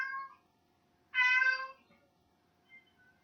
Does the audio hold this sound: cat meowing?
yes